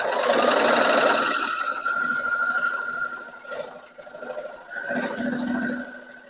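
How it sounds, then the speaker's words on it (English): A sewing machine stitches fabric for quilt piecing in loud, close, rapid mechanical bursts that slow, pause briefly and start again, with no talking. "Now I'm going to take a few stitches"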